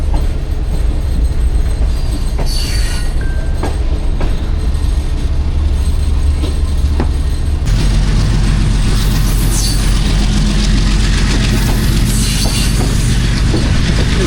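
Pak Business Express passenger train on the Karachi–Lahore line, a steady loud roar of wheels and carriages rolling along the rails, with occasional squeals and clicks, growing heavier and denser partway through as the train runs on.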